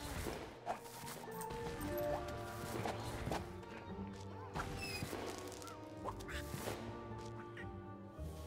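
Donald Duck quacks amid game effects in the Disney Illusion Island video game, repeated short nasal quacks mixed with thuds and chimes over steady background music.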